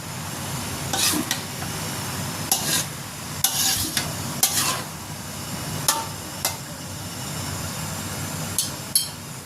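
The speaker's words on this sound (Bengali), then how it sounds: "10-15 মিনিটে ঢেঁড়সগুলো অনেকটাই নরম হয়ে গিয়েছে। ভালো করে নেড়ে চেড়ে নিতে হবে।" Softened okra frying in a pan is stirred with a spatula, a steady low sizzle punctuated by a run of sharp scraping clacks at irregular intervals, close by, with no one talking.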